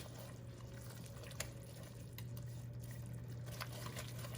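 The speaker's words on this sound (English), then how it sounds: "I'm going to introduce a little bit of water, and then I'll add my beef stock later." A little water is poured into a pot of beef stew, a faint soft liquid splash and sizzle over a steady low kitchen hum, with a few small clinks.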